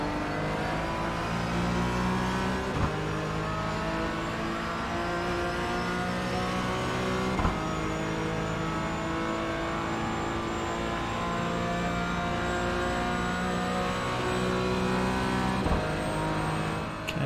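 A BMW GT4 race car engine in iRacing holds a loud, continuous high-revving note, climbing steadily with a few brief gearshift blips along the way and no voices over it.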